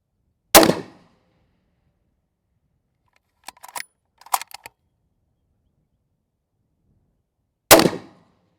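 Two loud, sharp rifle shots fired at a target 800 yards away, one near the start and one near the end, each with a short decaying tail, with a few faint clicks of bolt or scope handling in between.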